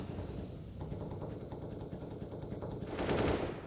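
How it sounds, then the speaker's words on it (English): Sustained automatic rifle fire sprays in rapid bursts during a Counter-Strike professional match, loud and continuous, swelling louder near the end with no talking. "Bullets being spammed"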